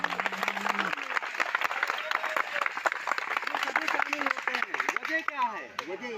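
Crowd at a village national-day celebration claps in steady applause, a dense patter of hands with voices and chatter mixed over it.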